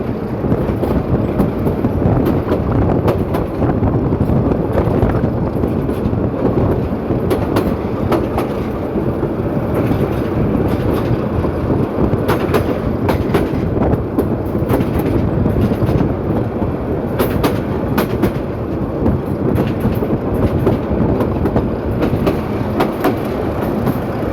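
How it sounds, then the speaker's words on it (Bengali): A Narayanganj commuter train pulls away from Pagla railway station, slowly picking up speed, with a steady loud rumble and rhythmic clickety-clack of wheels on rails running continuously close by. "ট্রেনটি তার গতি বাড়াচ্ছে ধীরে ধীরে"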